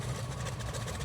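A Sukhoi SU-31 aerobatic plane's engine idles during landing in Microsoft Flight Simulator, a steady low rumbling drone with slight pulsing vibration, close and continuous with no talk.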